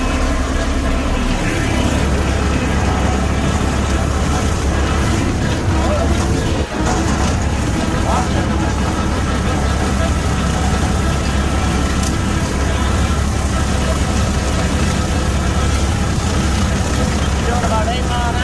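A new Schulte mower cuts through cattails at about 8 miles an hour, its engine droning steadily and loudly throughout with rough wind-like rumble and no breaks.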